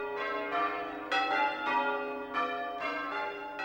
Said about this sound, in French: Vous n'entendrez pas de mélodie dans un carillon anglais, mais plutôt des rondes et des séquences.